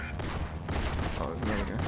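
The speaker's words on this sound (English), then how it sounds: "I'm just gonna walk towards you and fire my gun." Rapid gunfire from the video game GoldenEye: Rogue Agent on the Nintendo DS, a continuous burst of shots mixed with game sounds and a voice talking over it.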